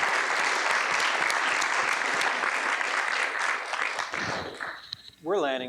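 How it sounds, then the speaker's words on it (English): Sustained, dense applause from the audience at a city councillor debate carries on for about four seconds, fades, and then a voice starts speaking. "round of applause for that last one"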